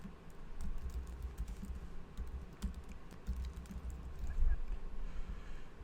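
Close computer keyboard typing, a fast irregular run of light key clicks over a quiet room hum, with no talk, as a name is entered into a form.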